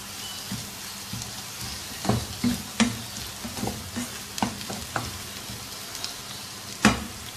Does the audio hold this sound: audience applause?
no